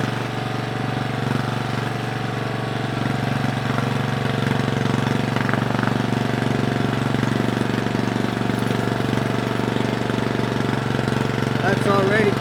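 Continuous chugging drone of a Briggs & Stratton small engine fitted with a cheap muffler, running steadily and close by with an even rhythm, while a person talks over it.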